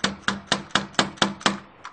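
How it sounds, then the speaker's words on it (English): A ball peen hammer mashes an aluminum pop can flat, struck in seven sharp, evenly spaced metallic blows about a quarter second apart, with a lighter eighth tap at the end, close and loud with no talk. "you can use a ball peen hammer"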